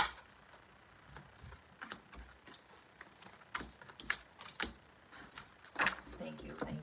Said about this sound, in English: look at the cards, how they're flipping out